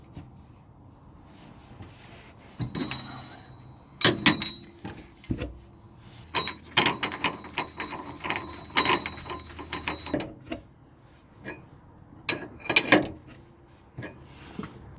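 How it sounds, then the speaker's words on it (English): A radius rod bolt is screwed back in on a VW T3 Vanagon, heard as irregular bursts of metallic ratcheting and clanking with quiet gaps between them, close and fairly faint, with no voices. "I'm going to screw this this bolt back up to the right measurement"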